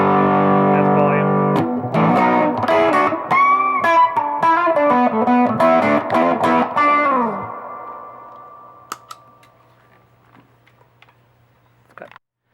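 Electric guitar played through a distortion effects pedal, a loud run of buzzy, saturated notes and chords that gives way to a quiet sustained hum and a few small clicks.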